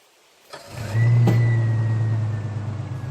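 An old Jeep's engine cranks and catches, then settles into a loud, steady, close running drone with a slight rise in revs as it begins to move, no voices heard.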